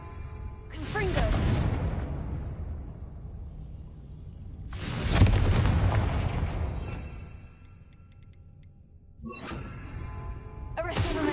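Confringo fire spell blasts in Hogwarts Legacy, three separate bursts with a sharp crack, a rumbling roar and a fading whoosh, spaced several seconds apart, with a voice speaking at times.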